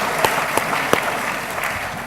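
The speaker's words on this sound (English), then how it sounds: "Big round of applause for that lady." Audience applause at an awards ceremony, a steady wash of clapping from a crowd with a few sharper, closer claps standing out, moderately loud and sustained throughout.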